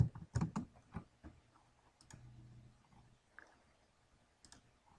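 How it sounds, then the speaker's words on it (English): Fingers type on a computer keyboard: a few quick, faint clicks clustered at the start, then sparse, softer taps spaced out in a quiet room. "you can type it into the search box"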